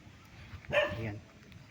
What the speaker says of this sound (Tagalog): galit ang aso ah